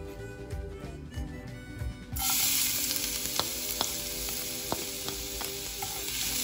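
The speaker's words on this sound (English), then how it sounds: "Just fry until your garlic turns golden brown" Garlic drops into very hot oil in a pan: after quieter clatter, a loud, dense sizzle bursts in about two seconds along and holds steady, dotted with sharp pops and crackles.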